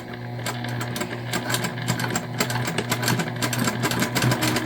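A sewing machine stitches a pouch made from a dish drying mat, a rapid, steady needle chatter running close and continuously with small pauses and shifts in speed.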